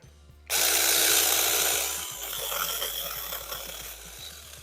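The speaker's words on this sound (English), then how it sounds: "Cuts right through, just like a regular chainsaw." Temu cordless mini chainsaw cutting through tree limbs outdoors, a loud steady buzzing motor whine kicking in abruptly, then easing slightly as the chain bites into the wood, with no talking.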